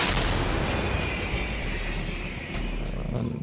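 A loud Ukrainian Bohdana self-propelled howitzer fires once at the start, and the heavy boom rumbles and slowly fades over the next few seconds.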